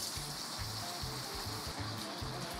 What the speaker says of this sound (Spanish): Y vamos a agregarle ahora agua.